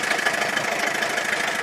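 An old lorry engine runs with a badly worn water pump bearing, giving a steady, close mechanical drone with a fast rhythmic knocking and rattling that continues unbroken.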